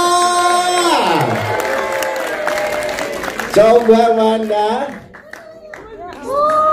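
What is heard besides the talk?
audience applause and cheering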